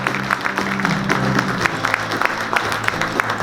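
An audience at a textile and fashion industry New Year reception applauds to welcome a former chairman, giving steady, close, fairly loud clapping with dense crackling claps throughout.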